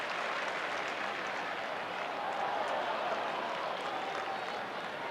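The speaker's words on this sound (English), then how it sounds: "And the crowd reacts again as they watch it on the big colour scoreboard at the MCG" Crowd at the MCG during a 1990 Melbourne vs Essendon Australian football match, a continuous, dense roar of cheering and applause from a large stadium audience, steady and far-spread.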